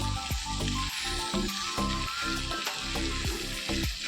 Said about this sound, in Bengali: অনেকক্ষণ ধরে আমি চিকেনটাকে কষিয়েছি